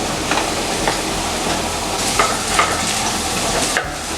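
A teaspoon of finely chopped garlic clove sautéing in a pan for paneer pepper garlic rice: loud, continuous sizzle and hiss with occasional spatula stirs and scrapes.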